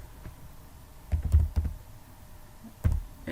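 Keys clack on a computer keyboard as a disk-partitioning command is typed, a few soft, close taps in two small clusters with quiet between them.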